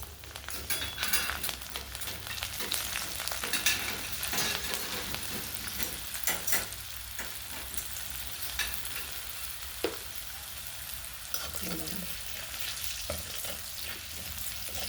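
Home-grown garlic sizzles and fries in hot oil with crackling cumin seeds, a steady close crackle with occasional stirring scrapes and pops, no voices.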